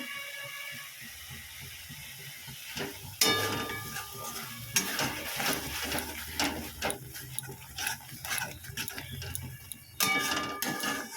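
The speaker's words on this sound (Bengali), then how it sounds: "এখন মশলাটা আমি সুন্দর করে কষিয়ে নেবো" Spice masala for an okra dish being sautéed in a pan, a steady sizzle under repeated scraping and clattering stirring strokes, close and fairly loud.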